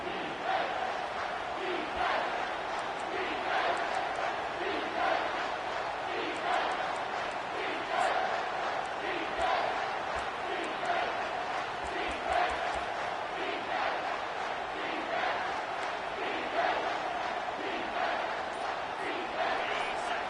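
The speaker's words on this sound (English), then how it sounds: "This crowd rising up," A football stadium crowd during a Miami Hurricanes versus Texas game roars and swells, a dense, sustained wall of cheering and yelling that holds steady throughout with no clear speech.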